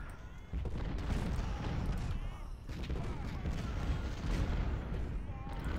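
Artillery cannon fire rumbles through a Ultimate General: Civil War battle defending Cemetery Ridge, a dense, continuous barrage of booms and volleys that stays loud throughout with little pause.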